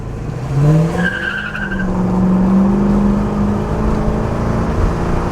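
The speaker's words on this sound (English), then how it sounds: "it has enough beams to get the tires spinning a little bit" A 1979 Pontiac Trans Am with a Flowmaster exhaust launches hard from a stop sign, its tires spinning and squealing over a loud, steady engine roar that rises as it pulls away, with no talking.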